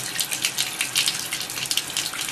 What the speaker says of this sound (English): I put it back under the water and just really work water into the sponge